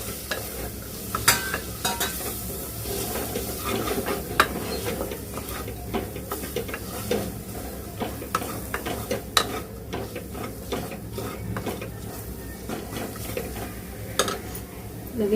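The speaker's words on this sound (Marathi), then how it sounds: "आणि परतून घेते मिक्स करून" A spoon stirs onion and tomato sautéing with powdered spices in a pan, with steady soft sizzling and frequent light scrapes and clinks against the metal.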